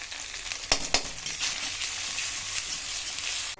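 Chili powder frying with spice paste in hot oil, a steady close sizzle filling the pan with a couple of sharp crackles early on, no voices.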